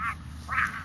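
A squeaky duck toy for seven-week-old Charger puppies lets out two quick quacking squeaks close by, the second louder and longer.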